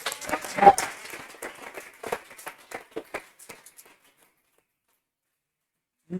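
Brief burst of hand claps for the exam topper at a defence academy mock exam in Chhattisgarh, strongest at first and thinning out over about four seconds before silence.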